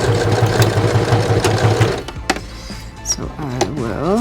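A sewing machine stitches a homemade bikepacking frame bag in a steady rapid rhythm for about two seconds, then stops, leaving quieter handling noises and brief thumps with a person talking.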